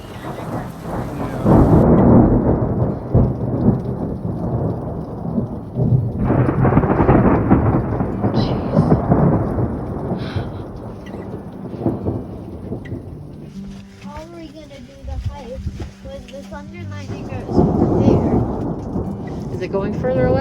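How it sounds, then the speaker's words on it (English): Heavy rain pours steadily during a thunderstorm in Joshua Tree, with repeated rolling thunder rumbling loud and close, and brief quieter gaps in the downpour. "It's still thundering and lightning"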